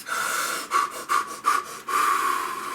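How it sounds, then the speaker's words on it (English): Slow, deep breaths close up, a long airy exhale followed by a few short rhythmic inhales and exhales, then another long sustained breath out, alone without speech. "Let's breathe."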